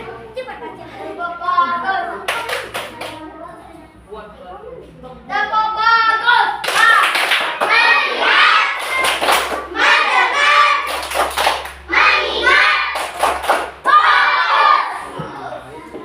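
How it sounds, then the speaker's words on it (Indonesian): A class of fourth-grade schoolchildren claps hands in repeated rhythmic bursts, loud and close, mixed with children's voices chanting and calling out between the rounds. "Tepuk tangan. Tepuk tangan."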